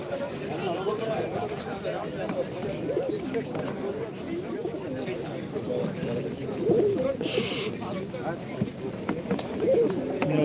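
Pigeons and doves cooing amid the steady hubbub of an open-air bird market in Edirnekapı, Istanbul, with people talking throughout and soft calls rising now and then over the crowd.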